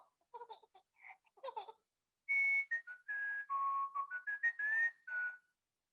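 Children whistle along to a Peppa Pig storytime, a run of clear, loud sustained whistled notes at varying pitch, preceded by a few softer scattered whistles and young voices.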